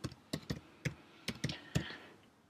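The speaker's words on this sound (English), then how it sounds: "Let's type dentist," Quick bursts of computer keyboard typing as a short search is entered, about six or seven crisp, close key taps in an uneven rhythm, fairly quiet with no talking.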